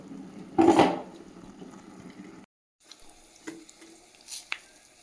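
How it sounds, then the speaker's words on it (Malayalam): Mustard seeds sizzle in hot oil while tempering a pineapple varutharacha theeyal. A loud burst of sizzling opens the sound and gradually fades, then breaks off briefly before scattered pops and crackles. "ആവശ്യത്തിന് ഉപ്പും ചേർത്ത് കടുക് തളിച്ചെടുക്കണം"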